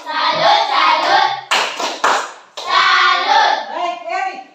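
A class of children chants a rhythmic "tepuk salut" call in unison, with a short burst of hand clapping in the middle between the sung phrases, loud and close.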